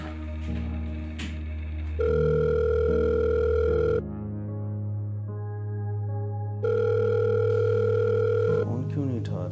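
A phone ringing tone in steady electronic bursts with pauses between, repeating unanswered, with background music-like tones underneath.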